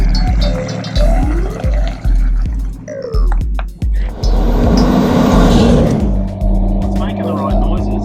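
Nissan Patrol fitted with a Barra engine running, a loud close engine rumble with pulsing revs and a sustained drone, with people talking over it.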